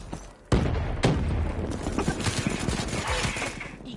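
Gunfire in the Black Ops 3 beta multiplayer game, bursts of rapid automatic shots beginning abruptly and continuing densely with sharp reports, loud and close, with a faint voice underneath.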